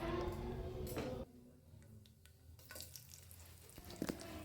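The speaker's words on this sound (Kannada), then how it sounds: "ಹಾಗೆ ಒಂದು ಪಾತ್ರೆ ಇಟ್ಟು ಅದಕ್ಕೆ ಸ್ವಲ್ಪ ಎಣ್ಣೆ, ಕರಿಬೇವಿನ ಸೊಪ್ಪು, ಸಾಸಿವೆ, ಜೀರಿಗೆ, ಒಗ್ಗರಣೆ ಹಾಕಿ ಒಂದು ಅರ್ಧ ಈರುಳ್ಳಿ ಹಾಕ್ತೀನಿ." Onion hitting hot oil in a pot with mustard seeds, cumin and curry leaves, giving a loud sizzle that drops after a second, then a softer steady crackle with small clinks.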